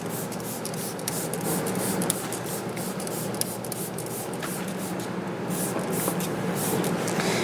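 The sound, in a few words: spraying engine detailing spray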